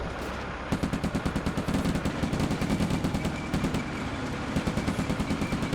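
Rapid machine gun fire in the WWII tactical game Combat Mission: Afrika Korps, bursts of closely spaced shots repeating steadily over a rumbling vehicle engine, with no talk.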